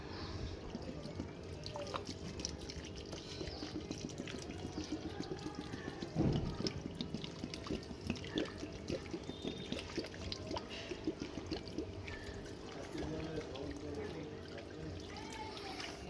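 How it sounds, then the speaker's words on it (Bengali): Water is poured at the base of a newly planted rose bush in soil, a soft, uneven trickle and splash that stays faint, with a brief louder gush partway through. "গোলাপ গাছটি লাগানো কমপ্লিট হয়ে গেছে এবার জল দিয়ে দেবো গোড়ায়"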